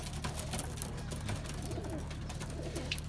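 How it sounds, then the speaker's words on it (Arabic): A small bird calling in a garden during hot weather, faint repeated high chirps over a low steady background hum. "عصفور ترى"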